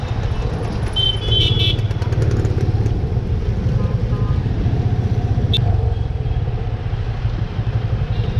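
Several motorcycles ride together through night traffic, a steady engine drone that stays loud and close throughout, with a brief horn toot early on and road noise around it.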